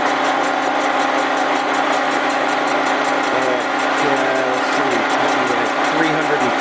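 A big milling cutter turning at 310 RPM on a slow 1¼ inch-per-minute feed, cutting a pitted axle. It makes a steady, loud, unbroken machining drone with a faint whine and a slight waver throughout.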